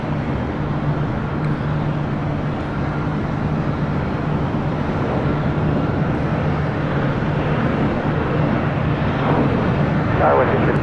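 WestJet Boeing 737-700 airliner arriving at LAX, a steady, fairly distant jet roar that holds through the whole stretch and swells slightly near the end, with faint muffled voices underneath.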